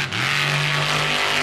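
Grave Digger monster truck revving hard at a Monster Jam arena show in Nashville, a loud, sustained engine roar holding a steady pitch with no pauses.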